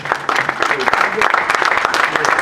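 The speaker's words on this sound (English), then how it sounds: "please round of applause for those gentlemen who are not here" A room full of people claps steadily, a dense patter of hands that holds at an even level throughout, fairly close and loud.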